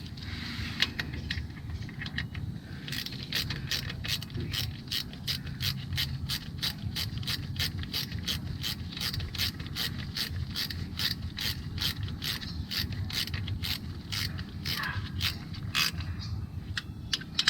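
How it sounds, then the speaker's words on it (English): A ratchet wrench clicks in a fast, steady run of ratcheting strokes, tightening timing chain bolts on a 2014 GMC Acadia 3.6L engine, close and alone without talk. "Grab the wrench."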